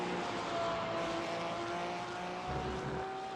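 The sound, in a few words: Porsche GT3 race car engine at Laguna Seca, sim racing game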